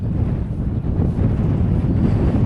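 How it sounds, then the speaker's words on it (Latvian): Steady wind on a lake during a fishing outing, roaring and buffeting the microphone as a constant low rumble with no pauses. "ka mums ir vējš šodien"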